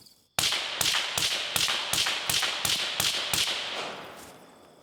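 About ten 5.56 rifle shots fired into dirt through a SIG Sauer Hexium 556 Ti titanium suppressor, sharp cracks in a rapid, evenly spaced string after a brief pause, with the last shots trailing off.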